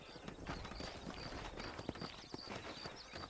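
Horse hooves clip-clopping at a quick, uneven gait in the Red Dead Redemption video game, set against a steady outdoor ambience, with no talk over them.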